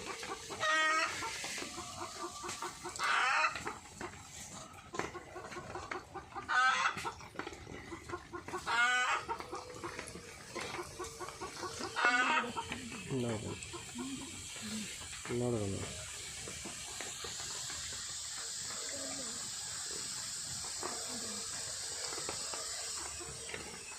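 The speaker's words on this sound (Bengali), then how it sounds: "মুরগি ডাকছে, ডিম পেড়েছে নাকি?" A hen clucks repeatedly in short, irregular bursts close by, with the calls thinning out toward the end as quieter background noise takes over.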